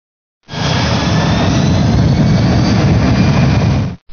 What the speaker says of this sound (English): The EEC now sets maximum reverse thrust.